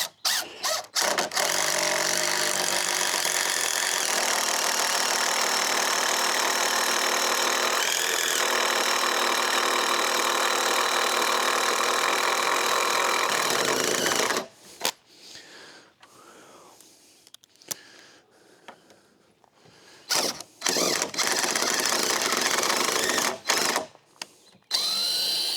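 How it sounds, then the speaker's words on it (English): A power drill whirs steadily for about fifteen seconds while driving a screw into a trailer during a rebuild, then stops and restarts in short bursts amid quieter gaps. "I'll try drilling again with the screw."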